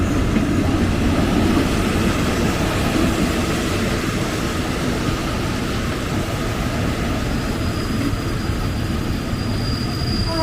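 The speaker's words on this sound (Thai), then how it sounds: "รถเร็วขบวนที่ 135 กรุงเทพอุบลราชธานี เข้าเทียบชานชที่1ทันทีครับ" The Bangkok–Ubon Ratchathani rapid train, number 135, pulls into the first platform at Ayutthaya station, a loud, steady rumble of wheels and carriages close by, with a faint wheel squeal toward the end.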